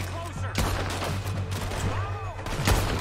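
Rapid volleys of gunfire in a Red Dead Redemption 2 shootout, several sharp shots cracking out over a steady low rumble, with a voice speaking briefly between bursts.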